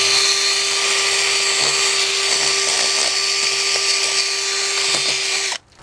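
A drill brush spins against a dirty cabinet in a steady, loud whirring drone with a fixed motor pitch that runs nearly six seconds, then cuts off abruptly at the end.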